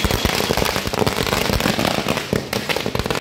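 A chatai bomb firecracker mat goes off at Diwali in Jehanabad, a dense, continuous, rapid crackle of loud bangs with no pause, close and overwhelming throughout.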